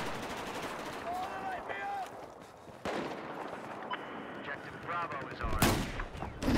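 Sniper rifle fire in Battlefield 4 gameplay, with sharp shots cracking out amid busy game noise and a loud blast near the end, while a voice talks over parts of it.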